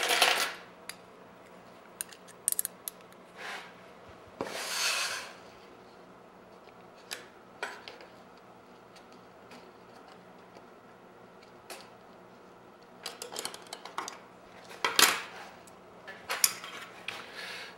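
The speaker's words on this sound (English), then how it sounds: "I use Collins spring clamps to put these things together." Collins spring clamps are handled while mitered wood pieces are joined: scattered sharp clicks and metallic snaps ring out close by, with short rustling handling noises between quiet pauses.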